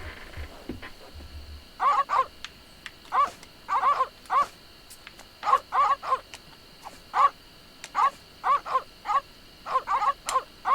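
Piranha poodles in The Secret of Monkey Island bark in short, repeated bursts, clustered in ones, twos and threes, loud and close over quiet game background.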